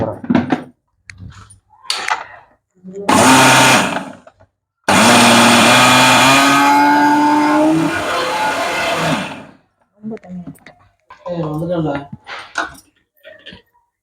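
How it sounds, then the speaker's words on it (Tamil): A mixer grinder blending ragi gives a short whirring burst, then a longer, loud, steady high-pitched whine that stops abruptly; a voice speaks before and after, with light handling clatter. "இதை வச்சு மிக்சியில் போட்டு அடிச்சுட்டு மாவு"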